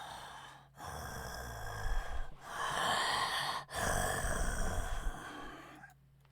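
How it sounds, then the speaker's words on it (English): Heavy, labored breathing of a large creature as it stirs, several long breaths rising and falling with brief pauses between, close and fairly loud, then fading to near silence at the end. "And you just hear the heavy breathing of it."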